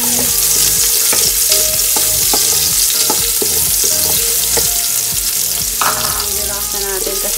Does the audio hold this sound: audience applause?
no